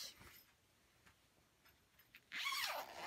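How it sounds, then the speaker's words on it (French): A zipper is pulled open on the fabric cover of a WWE Intercontinental Championship belt, a single quick zipping rasp near the end after faint rustling handling sounds, close and clear. "Alors on va enlever la housse."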